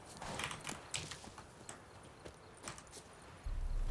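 Hooves of Roach, Geralt's horse in The Witcher 3, clop in a quick, uneven walking rhythm, close and moderately loud, ending in a low rumble.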